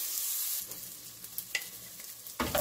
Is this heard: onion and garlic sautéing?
yes